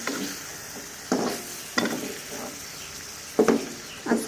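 Fish cooking down in a pan in a village kitchen, not deep-fried in oil, with a soft continuous sizzle broken by four distinct stirring scrapes at irregular intervals.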